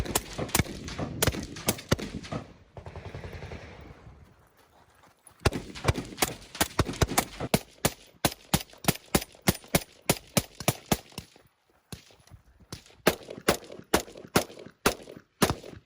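Pistol shots at a shooting class ring out in rapid sharp strings, dozens of cracks from several shooters at varying distances, with brief pauses between volleys and no talking.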